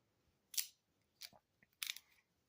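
Large scissors from a multitool being handled, giving a few short, crisp snips and clicks spread over a couple of seconds, close and fairly quiet against near silence.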